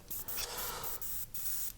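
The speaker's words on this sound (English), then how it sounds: "Let's give her a bit of a spray out." An airbrush sprays paint onto a model Lambda shuttle part with a steady, close hiss broken by a few brief pauses between passes.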